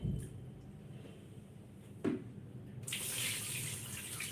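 Tap water runs into a kitchen sink while sago pearls are rinsed. A soft, faint trickle with a brief splash builds into a steadier, hissing stream partway through.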